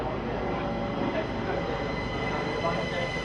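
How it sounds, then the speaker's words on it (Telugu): An S9 S-Bahn train to Bruck an der Mur pulls into a station in Austria, its loud, close rumble and clattering wheel noise holding steady throughout. "ట్రైన్ చూడండి, చూడండి S9 బ్రుక్ అండ్ మోర్"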